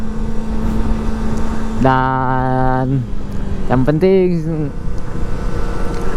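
A Kawasaki ZX25R motorcycle ridden on roads near Mount Fuji in Japan, its engine holding a steady drone and then revving up in two rising bursts, heard under someone talking.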